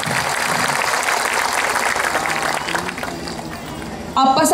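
A crowd at an outdoor political rally in Pachora applauds loudly and continuously, a dense wash of clapping that fades slightly near the end before a sharp new burst of noise.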